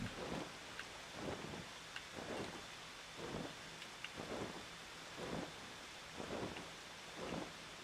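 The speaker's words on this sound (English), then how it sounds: "The thunder looks cool as shit, though" Rolling thunder with steady rain in a stormy scene from the video game Final Fantasy XIV: Endwalker, low rumbles swelling about once a second over a constant hiss of rainfall, fairly quiet and with no talking.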